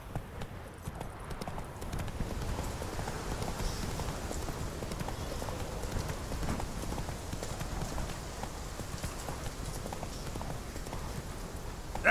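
Roach the horse gallops in The Witcher 3 with a steady, fast clip-clop of hooves, continuous and fairly close, over a soft ambient wash.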